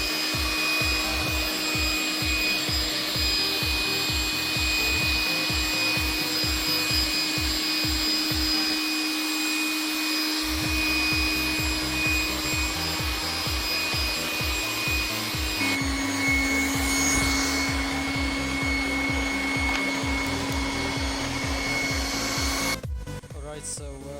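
A Trifo Lucy robot vacuum's suction motor runs with a steady whine, joined by rhythmic rubbing and scraping pulses as a carton is tugged along the floor, close and continuous.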